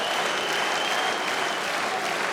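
A crowd at an OKTAGON MMA fight roars and applauds continuously, a dense, loud wash of cheering with no break.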